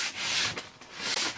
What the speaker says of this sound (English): So let me get some sandpaper for this